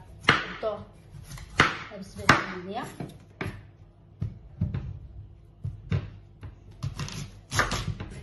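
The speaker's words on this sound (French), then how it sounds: "Donc je vais couper mon fenouil comme ça." A knife cuts through fennel on a board, with crisp, irregular chops landing roughly every half second, close and distinct, while a person talks over the first few seconds.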